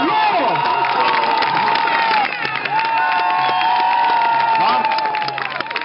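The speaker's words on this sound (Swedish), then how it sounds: "En applåd!" A crowd at an outdoor knight show cheers and claps, with children's high voices shouting and whooping over a busy mix of applause throughout.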